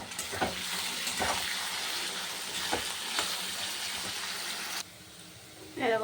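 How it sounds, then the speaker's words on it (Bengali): Potatoes frying crisp in a pan of hot oil, a steady loud sizzle running for several seconds with faint stirring scrapes, then the hiss drops away abruptly near the end. "পুরো একদম কড়কড়া আলু ভাজা করেছি"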